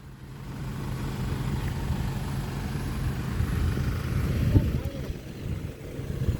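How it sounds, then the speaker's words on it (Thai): A farm tractor idles near a dirt pond with a steady, low, rumbling engine drone that swells slightly midway and then settles, and faint voices can be heard in the background. "เดี๋ยวผม ต้อง เอา รถไถไปเก็บ"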